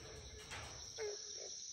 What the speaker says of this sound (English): You can hear the barking tree frogs calling.